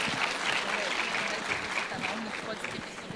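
An audience at a business administration event applauds the prize winners, a steady, full burst of clapping that runs throughout while a voice talks over it.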